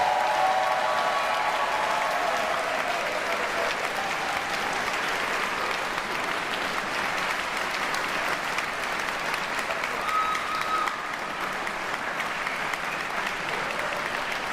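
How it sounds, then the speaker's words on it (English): Sustained, dense applause from a large audience at a music school convocation, honoring Masters in Music graduates; steady and full throughout with no gaps. "One more round of applause for all of our Masters in Music graduates."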